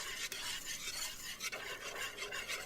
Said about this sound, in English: Go ahead and give that a whisk